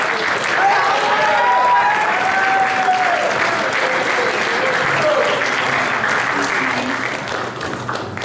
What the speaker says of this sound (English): Let's give one more final round of applause for this incredible sports staff.